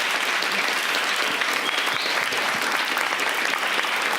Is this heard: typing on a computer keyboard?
no